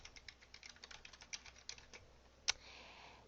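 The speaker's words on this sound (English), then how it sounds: "we're going to type your name down at the bottom" Typing a name on a computer keyboard: a quick run of light, close key clicks in an irregular rhythm, ending with one sharper, louder keystroke.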